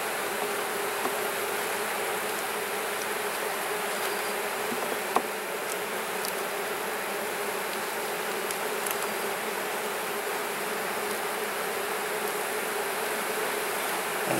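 Honey bees buzzing at an open beehive with bees and brood, a dense continuous drone close to the microphone and steady throughout, with a few faint clicks.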